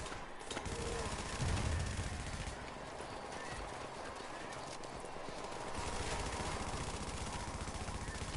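Gunfire from the Tom Clancy's The Division Dark Zone, with a shotgunner and a mortar player in the fight: a dense, continuous clatter of shots and impacts that runs the whole stretch, loudest early on, over a busy game soundscape.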